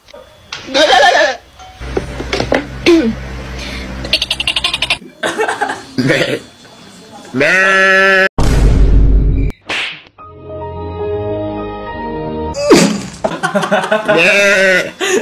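Sheep bleating mixed with voices, a sharp crack and other bursts; the bleats come in several short wavering calls, loud and close.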